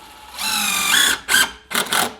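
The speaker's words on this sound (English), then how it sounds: "grab a drill and impact driver, put the long screw on, make sure you got the positioning correct, and then you would then just screw straight through this" A drill or impact driver drives a long self-tapping screw into a worktop during a butler sink install, its motor whining loudly in one long run and then two short bursts close by.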